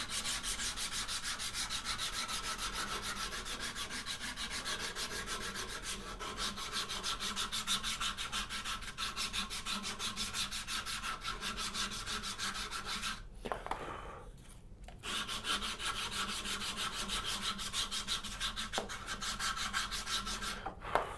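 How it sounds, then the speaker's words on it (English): A bow sander rubs back and forth over wood with fast, even rasping strokes, close and continuous, pausing briefly for about a second before resuming. "These bow sanders are just phenomenal for wrapping surfaces together."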